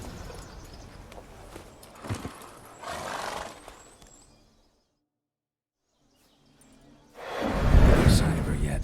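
Roach, a horse in The Witcher 3 video game, snorts and neighs loudly nearby between bursts of movement and hoof sounds, with a brief silent gap before a strong closing whinny.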